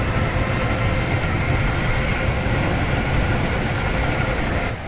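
A train runs in the Roblox game Stepford County Railway, a steady, full-bodied rumble of motion that continues evenly throughout with no talk, dropping slightly at the very end.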